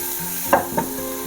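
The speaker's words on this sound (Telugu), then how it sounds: "లో ఫ్లేమ్ మీద పెట్టి ఒక టూ మినిట్స్ ఇలాగ ఫ్రై చేసుకుందాం" Eggs frying in masala in oil over a low flame, a steady soft sizzle with two brief stirring scrapes of the pan, close up and with no talking.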